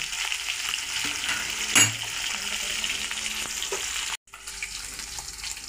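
Tengra fish frying in oil in a wok: a loud, steady sizzle with a sharp clatter early on, then a brief cut to silence before the frying resumes.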